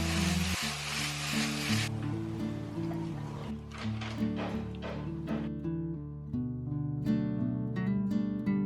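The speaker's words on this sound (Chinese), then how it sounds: "我们再把这个葱段跟红椒放下去。" Scallion pieces and red pepper hit a hot wok for scallion-braised chicken wings, a loud bright sizzle for the first two seconds before it fades under steady music with plucked tonal notes.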